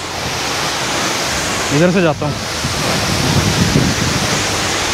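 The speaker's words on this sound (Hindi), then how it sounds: "भाई साहब बहुत ही गदर वाटरफॉल है ये वाला ना" Tiger Falls waterfall near Chakrata in Uttarakhand, a steady loud roar of falling water filling the whole clip, with a voice speaking briefly over it near the middle.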